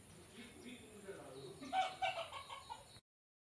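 A small flock of about ten to twelve desi hens, kept apart because they are sick, clucks softly in short, scattered calls close by, someone talking over them before the sound cuts out.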